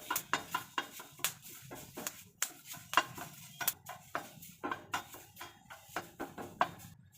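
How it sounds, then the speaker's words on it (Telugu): Fenugreek seeds being stirred and roasted in a pan for a homemade hair-darkening mix, with a steady run of sharp scraping and clinking strokes repeating about twice a second, close and fairly loud, with no talking. "కొంచెం మెంతులు వేసి ఇలా కలుపుకోవాలి"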